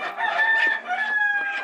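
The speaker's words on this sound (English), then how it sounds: "Look at that rooster." Large dual-purpose rooster on a farm crowing once, close and loud, a drawn-out strained call lasting under two seconds.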